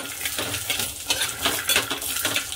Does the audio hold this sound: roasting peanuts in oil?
yes